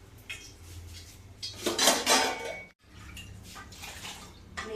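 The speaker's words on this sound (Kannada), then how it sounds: "ನೀರು ಸೇರಿಸ್ಕೊತಾ ಇದ್ದೀನಿ ಸ್ವಲ್ಪ" Water poured into a steel cooking pot in a home kitchen while making lentil saaru, a splashing, clinking pour that swells for about a second, pauses briefly, then resumes more softly.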